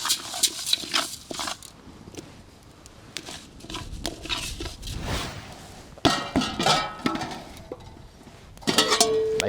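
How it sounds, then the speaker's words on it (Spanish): Some ingredient is stirred nonstop in a dry pan over heat to toast it lightly, giving close scraping, pattering and occasional clinks of utensil on metal in irregular bursts. "Vamos a tenerlo muy poquito tiempo aquí al fuego, revolviendo, removiendo todo el rato para evitar que se nos queme demasiado"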